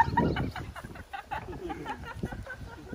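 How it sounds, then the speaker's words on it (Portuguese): A hen clucks repeatedly after laying an egg, a busy run of close, fairly loud clucks and squawks with no talk over them. "A galinha acabou de botar, né?"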